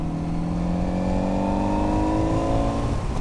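A Kawasaki Z900RS motorcycle engine pulls smoothly at low revs, around 1600–1700 rpm at 50 km/h, its steady hum rising gradually in pitch as it accelerates, heard close and continuous.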